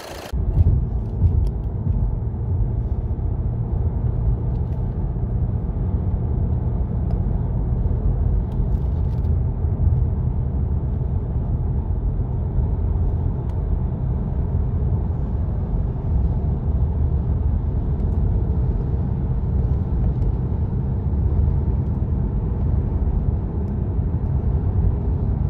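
A VW Passat 2.0 TDI, overheating at high speed with fault P2185, drives steadily along, its engine and road rumble a constant, close, even drone throughout with no talk.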